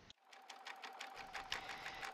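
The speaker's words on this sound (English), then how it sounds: "So now I'm stitching out the tack down line" An embroidery machine stitches a tack-down line on an appliqué, a quick, steady run of needle taps that starts after a brief silence, with no talk.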